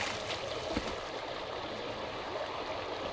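River water flows steadily in the survival game Sons of the Forest, a continuous rushing wash with faint gurgles and one brief knock, with no voices.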